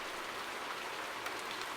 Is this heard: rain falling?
yes